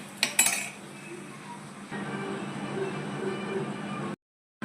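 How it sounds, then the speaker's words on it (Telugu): Chicken frying in oil in a lidded pan: a couple of sharp metallic clinks as the lid comes off, then steady sizzling with soft stirring scrapes, close and moderately loud, with no talking. "ఇలా లిడ్ ఓపెన్ చేసి మధ్యలో కలుపుకోవాలి"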